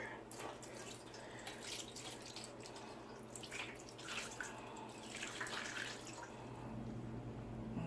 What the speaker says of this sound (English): I am going to add 4 cups of water.